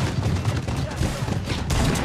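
Rockets and rapid gunfire burst loudly and continuously in a shooter video game, a dense barrage of shots and blasts with a player's excited voice talking over it.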